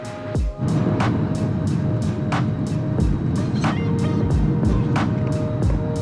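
A car driving through a town in Nuvali, Philippines, with a steady engine and road rumble heard from inside the cabin and a regular ticking, like a turn signal, repeating throughout.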